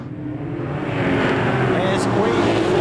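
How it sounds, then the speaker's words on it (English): A field of saloon race cars rolls toward the green flag at Beachlands Speedway, engines droning and building steadily as a continuous roar, with no talk heard. "This awesome field of Saloons is being led to the green by Dan Black in the 112"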